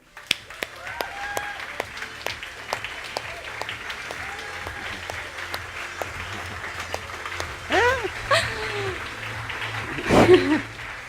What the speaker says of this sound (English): get up on your feet and let's give a warm round of applause to Naama Yanko.